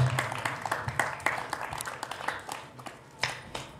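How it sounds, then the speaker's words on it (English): Applause from a live festival audience at Parkstomp after a song ends, with scattered claps and a few louder bursts, fairly faint and thin, as if from a modest crowd. "one more big round of applause"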